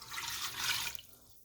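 A cup of chicken stock is poured into an Instant Pot with chicken, a close trickling splash of liquid that runs for about a second and then tapers off to quiet.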